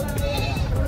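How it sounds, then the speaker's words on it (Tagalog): Goats and a sheep bleating at San Carlos City livestock market, a loud close bleat held for under a second over a dense, noisy crowd of animals. "mga kambing ni Sir Rod. And may kasamang tupa"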